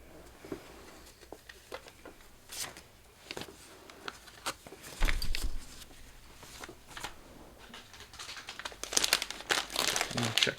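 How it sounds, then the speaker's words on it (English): Packing paper is crumpled and crinkled by hand at close range, in irregular bursts of crackling that grow busier toward the end, with no talk. "let me grab some paper"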